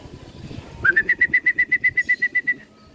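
A racing pigeon lands during a summer race in Sto. Tomas, Batangas, giving a quick burst of about fourteen even, rhythmic wingbeats, close and clear over faint background noise.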